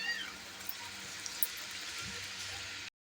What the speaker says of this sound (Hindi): हम इसमें डालते हैं दूध